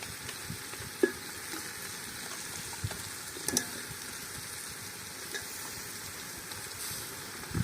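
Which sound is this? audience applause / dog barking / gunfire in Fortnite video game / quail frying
quail frying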